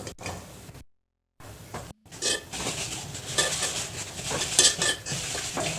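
Cooking palak keerai kadaiyal: clattering of a pot and utensils as cut tomatoes go into a pot of boiling dal, with scraping, stirring and soft bubbling in brief close bursts separated by short pauses.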